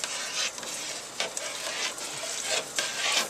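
A spoon stirs homemade ketchup in a pot with continuous swishing and scraping strokes, some sharper scrapes standing out, close and steady with no talk.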